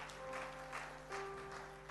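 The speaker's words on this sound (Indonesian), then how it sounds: "Tepuk tangan bagi Allah kita." A church congregation applauds during a sermon, a faint steady patter of clapping from many hands at a distance, swelling slightly in waves.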